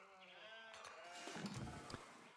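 Sheep bleating in the strategy game Age of Empires IV, a couple of faint short bleats over quiet background ambience.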